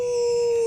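A person imitates a wolf with a loud, sustained howl, one long steady note held close for the whole moment, with no other sounds around it.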